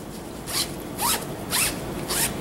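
A zipper on a Spider-Man zentai suit is pulled in four quick rasping strokes at an even pace, close and clear.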